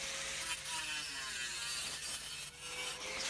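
Handsaw cutting through plastic electrical trunking at an angle, a steady rasping back-and-forth stroke, close and fairly quiet, with no voices.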